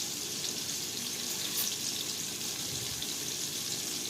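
Hooters-style chicken wings fry in an uncrowded pan, giving a soft, continuous hissing sizzle at an even level with no speech.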